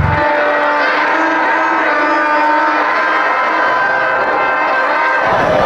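A dense crowd of shoppers packs a huge kite market in Ahmedabad during Uttarayan, making a loud, constant din with horn-like tones.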